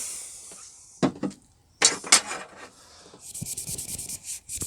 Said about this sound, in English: All that now remains is to just clean them up, get rid of all the branding with the nail varnish remover